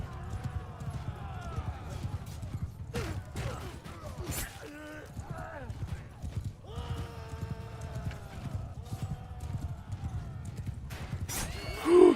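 Horses in the Realm of Thrones video game clatter with galloping hooves and let out several whinnies over a busy battle soundscape, with someone talking at points.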